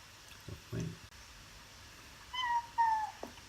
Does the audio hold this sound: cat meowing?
yes